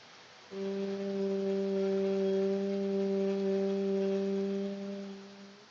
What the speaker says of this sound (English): and while breathe out, produce a sound of hum.